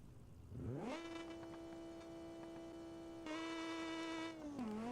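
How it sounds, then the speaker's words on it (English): A buzzy car engine in the BeamNG driving game, on a car built for a Goodwood time attack. It revs up quickly, holds a steady, high, harmonic drone, surges once, then dips briefly near the end. "This is a very buzzy engine."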